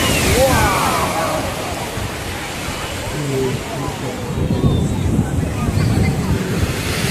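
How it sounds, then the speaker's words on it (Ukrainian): Stormy sea surf rolls and breaks continuously along the shore at Rimini, Italy, near Hotel Miramare, a steady roar mixed with wind buffeting the microphone, while a person talks over it. "Сьогодні трохи штормить."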